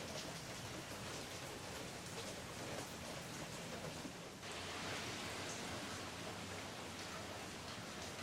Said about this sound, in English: the rains have returned